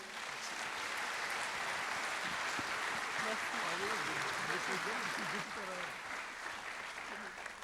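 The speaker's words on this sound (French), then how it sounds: "On vous applaudit très fort, s'il vous plaît." Applause from the audience at a business awards ceremony fills the room in a steady, fairly distant wash of clapping, while a voice talks over it through the middle and then the clapping thins toward the end.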